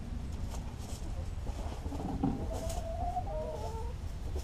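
Backyard hens, including buff-colored birds near a hen house, cluck softly and intermittently at a moderate distance, with a few drawn-out calls rising over a steady low background.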